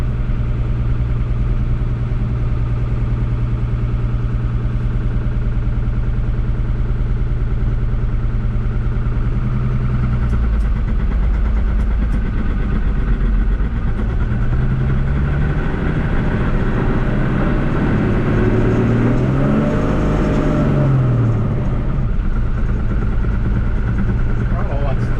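A 1975 Chevy K10 pickup with an Isuzu diesel engine runs steadily with a sticking throttle, its low drone rising and falling in pitch near the end, with someone talking over it.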